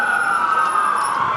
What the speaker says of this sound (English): We hear a siren.